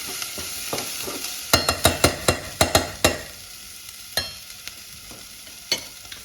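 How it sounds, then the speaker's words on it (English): Onions and garlic sizzle in a frying pan under a steady hiss, broken by a run of sharp, close scraping knocks as the mix is stirred, then a few scattered taps. "It's still just sizzling away."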